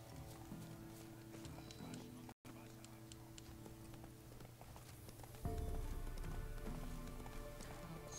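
Rhythmic hoofbeats of a horse galloping in The Witcher 3 video game run steadily throughout, faint under game music and ambience, with a brief dropout partway and a louder surge near the end.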